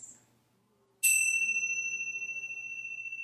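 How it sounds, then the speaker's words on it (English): Chime bells struck once to open a yoga session, a single bright ring that follows a faint earlier tap and then hangs in a long, slowly pulsing decay in a quiet room. "So I will chime my bells."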